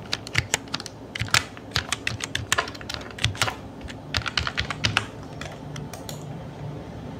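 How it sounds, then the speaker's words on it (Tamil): A password being typed on a computer keyboard, a close run of rapid plastic key clicks in uneven bursts with short pauses, alone over a faint room hum. "இப்போ நான் ஃபர்கெட் பாஸ்வேர்டு கொடுத்துட்டு என்ன பாஸ்வேர்டு கொடுத்தனோ அதை கரெக்டாக என்ட்ரி பண்ணிக்கிறேன்"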